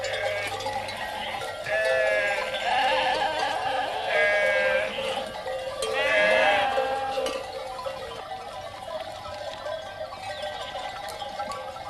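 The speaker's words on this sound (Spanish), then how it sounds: "Por las tierras de la maragatería pastan numerosos rebaños de churras y algunos también de merinas" A flock of Churra and Merino sheep grazing on the lands of La Maragatería in León bleats in several clear, overlapping bursts at close range, with quieter stretches of pastoral background between them.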